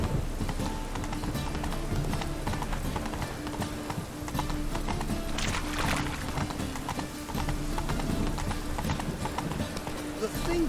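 Roach the horse gallops in The Witcher 3: Wild Hunt, a steady fast clip-clop of hooves running throughout under ambient game sound, with a brief whinny and someone speaking over it.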